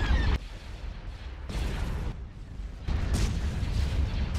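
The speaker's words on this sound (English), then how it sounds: "Hypervelocity cannon firing." A hypervelocity cannon firing in the Star Wars: Forces of Corruption space strategy game, several heavy booming blasts in succession, each a deep rumbling burst that hangs and fades before the next.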